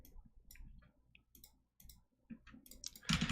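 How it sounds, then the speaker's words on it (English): Computer keyboard typed at a desk during a live coding session, with quick, irregular soft clicks close up that build into a louder flurry at the end. "right now I'm typing, you can hear my keyboard"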